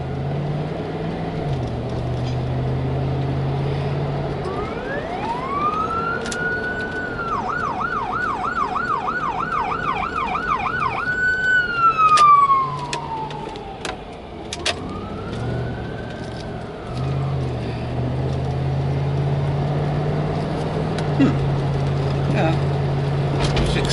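An ambulance siren passes by on a street, rising into a wail, switching to a fast yelp, then fading and returning, loud and near over steady traffic noise and a passing car.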